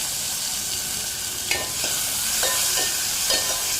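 Two finely chopped tomatoes added to a hot frying pan for a country chicken rasam: a steady sizzle with a handful of separate stirring scrapes in the second half, near and without speech.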